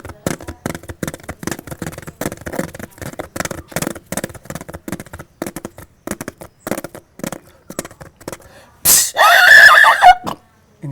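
A voice imitates a herd of horses going through water: a long run of quick, rhythmic clicking clops, then a loud rough burst near the end, with talking around it.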